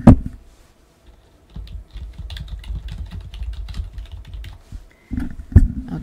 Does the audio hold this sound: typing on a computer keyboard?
yes